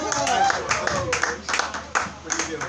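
A happy-hour crowd claps for a performer taking the stage, a thin scattering of close, irregular hand claps mixed with voices and background chatter.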